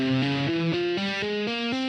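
A distorted guitar climbs the C Phrygian dominant scale, eight notes picked one after another in an even rhythm, close and loud with no talking.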